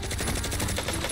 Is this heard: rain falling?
no